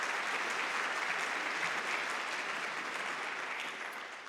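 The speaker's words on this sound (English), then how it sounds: "let's give a round of applause to Deb and to all of the volunteers" A concert audience claps in a dense, continuous round of applause that holds steady and fades slightly at the end, with no voices heard over it.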